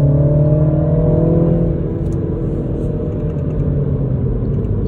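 A Mini Cooper S JCW engine hums and revs as it accelerates in third gear of a manual gearbox, the pitch rising and easing off over a steady rumble of road noise from inside the car.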